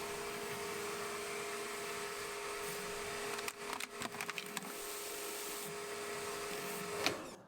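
A rotary patio surface cleaner on a pressure washer runs steadily as a broad, continuous hiss and whirr, with a stretch of choppy, uneven scraping in the middle and a sharp knock near the end.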